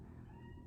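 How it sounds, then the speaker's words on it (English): A pet cat behind a closed door lets out one faint, drawn-out meow in the background of a quiet room. "Sorry if you can hear my cat in the background."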